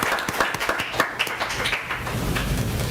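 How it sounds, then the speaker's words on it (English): Applause for the village team at a village council meeting: irregular claps from a small group, busier at first and thinning into a steady low murmur of room noise, with no speech over it. "I think we should give our village team a round of applause."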